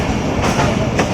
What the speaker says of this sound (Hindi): 18 डाउन वहाँ अराइवल ले रही है